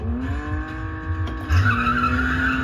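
Car tires squeal in a sustained skid in the arcade game Chase H.Q., over a steady engine drone, with a brief louder burst midway; no talking.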